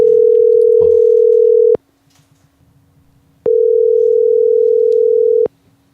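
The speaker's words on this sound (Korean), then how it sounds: "제가 한번 전화 연결을 해보겠습니다" Ringback tone heard while placing a phone call: two long steady tones separated by a silent gap, loud and clean, with faint background noise between them.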